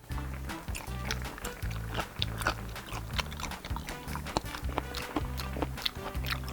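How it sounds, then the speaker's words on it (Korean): A person eating raw mandarin fish (sashimi) without soy sauce, with repeated close chewing and biting sounds in an uneven rhythm over low background rumble. "그러면 간장 안 찍고 그냥 먹어볼게요"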